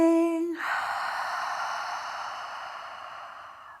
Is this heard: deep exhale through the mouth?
yes